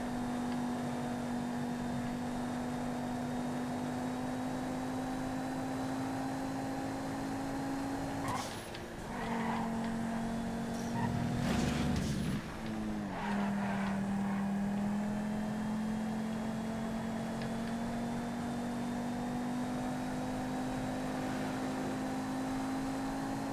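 A 9F sports car races in GTA FiveM, its engine a steady, droning hum that dips and climbs as it shifts and corners, with a brief rougher burst midway and no talking.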